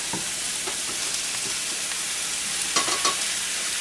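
Garlic goes into mushrooms stir-frying for lo mein, giving a constant hissing sizzle over the whole span with occasional soft scrapes and taps of a utensil against the pan.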